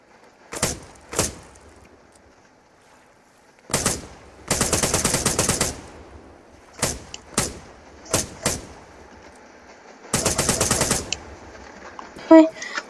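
Automatic gunfire from a weapon in a video game rings out in sharp bursts: single shots, then longer rattling volleys, separated by quiet gaps and set against faint background ambience.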